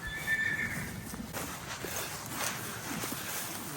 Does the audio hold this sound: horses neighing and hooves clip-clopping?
yes